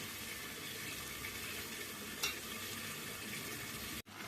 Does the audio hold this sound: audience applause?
no